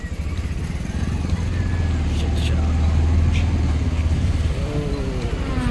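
Jammed road traffic in Noida, India: a steady low rumble of idling and creeping engines fills the scene, with occasional horn-like tones and nearby voices talking over the continuous vehicle noise.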